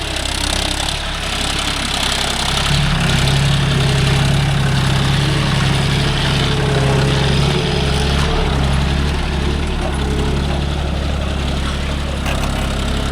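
A John Deere 5050D GearPro tractor runs in two-wheel drive, its diesel engine chugging with a steady low rumble and knocking throb that stays loud and close throughout, with no speech.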